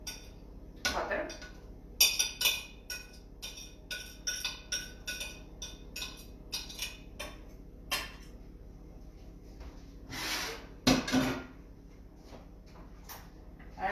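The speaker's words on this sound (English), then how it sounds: "Now I put a little bit temperature down and stir until it's smooth" A spoon stirs butter and spices in a pot, knocking and scraping against the metal in a steady run of clinks and taps, close and fairly quiet.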